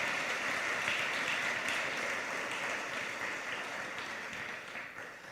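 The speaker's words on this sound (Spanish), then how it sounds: "Dale palmas al Señor en estos momentos." A church congregation applauding the Lord during a service, a dense, sustained wash of clapping from many hands filling the room, slowly easing off toward the end.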